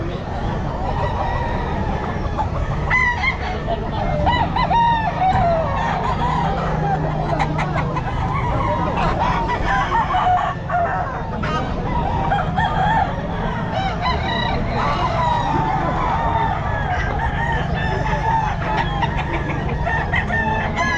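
Gold pumpkin hulsey bull stag gamefowl crowing repeatedly amid the constant clucking and bustle of a crowded Bocaue pet market, with faint voices in the background.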